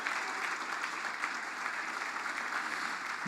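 A church congregation claps as a soft, distant, even wash of applause, faint and unbroken throughout.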